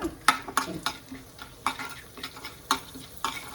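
Chana dal and urad dal frying in a pan while being stirred, a soft steady sizzle under repeated scraping clinks of a spoon against the pan, close and fairly loud.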